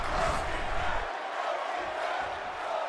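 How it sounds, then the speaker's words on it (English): An arena crowd at a wrestling match chants and roars, a dense wash of many voices with rhythmic swells, heard from a distance at a steady loudness. "And the crowd's chanting something I can't hear what they're chanting"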